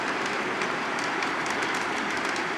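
An O gauge model train rolls steadily over three-rail track, giving a continuous close rumble with a light clickety-clack running underneath the whole stretch, no voices.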